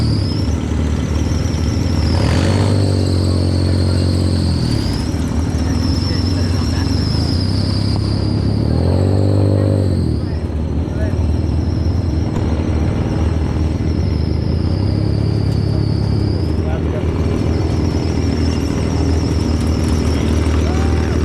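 Off-road buggies at a park in the Dominican Republic drive with their engines running steadily throughout, a close, loud droning rumble that rises and falls in pitch as they accelerate and ease off.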